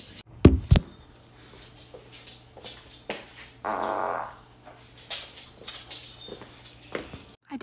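Short sharp fart bursts heard close up in a quiet room, with a louder low toot early on and a longer buzzy one midway, mixed with faint scattered movement noises.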